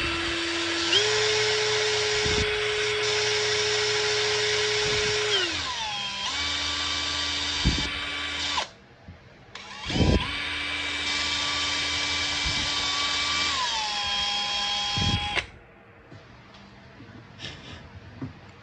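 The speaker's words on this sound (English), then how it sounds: "So now I take my drill bit. Go ahead and drill this out." A power drill boring a hole in balsa wood whines in long steady bursts, pitch dropping as it bites and spins down, with short pauses between runs, close and loud.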